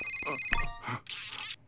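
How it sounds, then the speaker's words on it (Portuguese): A mobile phone ringtone rings in a library, a repeating electronic melody of bright tones sounding fairly close, with brief voices mixed in around it. "De quem é esse celular? Pode ir desligando esse negócio."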